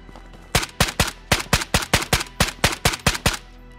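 Rapid burst of gunfire in the VR shooter Ghosts of Tabor, around sixteen loud, close shots in a fast steady rhythm, alone without talk.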